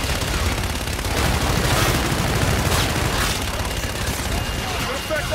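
Call of Duty Infinite Warfare artillery fire support strike: a dense battlefield wash of rapid gunfire and booming impacts, loud and continuous, with radio-style voices talking over it.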